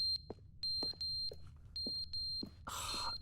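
Alarm clock ringing in The Stanley Parable video game: a series of sharp, high electronic beeps repeating in short bursts, close and loud, ending in a brief harsh buzzing burst.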